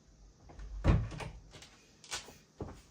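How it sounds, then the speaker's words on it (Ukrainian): A door is opened at home to let a cat through, with a sharp handle click and knock near the one-second mark followed by softer bumps and creaks, close and moderately loud, no speech. "Зараз зараз я відкрию двері котику."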